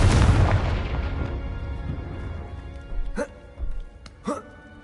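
A Confringo blasting spell bursts in Hogwarts Legacy, starting with a loud, heavy boom that decays into a rumbling tail. Later come a few sharper pops and swooshes, and no one speaks.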